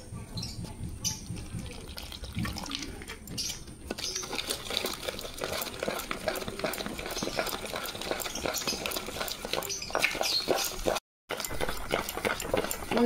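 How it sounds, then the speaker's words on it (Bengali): Gram flour (besan) batter seasoned with salt being mixed by hand as small amounts of water are added: a steady, soft, wet stirring and squelching that runs continuously, with brief scraping accents and one short gap near the end. "অল্প অল্প জল দিয়ে বেসনটা মাখবো"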